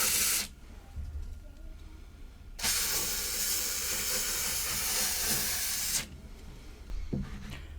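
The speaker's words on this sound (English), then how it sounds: "take my WD-40 and spray on them with a lot of force" WD-40 sprayed forcefully onto SRAM X01 bicycle derailleur parts, two long loud hissing bursts, a short one at the start and a longer one lasting about three seconds, close and alone.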